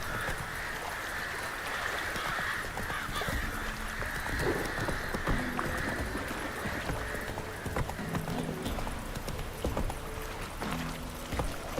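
Geralt's horse Roach clip-clopping in The Witcher 3 video game, a steady rhythm of hoof falls under a continuous bed of game ambience and music, with no voices.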